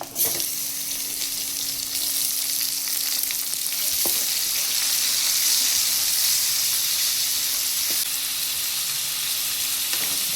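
Onions and tomatoes sauté in a hot pan for a chutney, a steady, close sizzle and hiss running the whole time with a couple of faint clicks, no talking.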